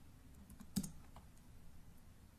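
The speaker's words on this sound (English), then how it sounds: "typing in the file name" A computer keyboard clicks faintly in short, uneven taps as a file name is typed, with one slightly louder keystroke partway through.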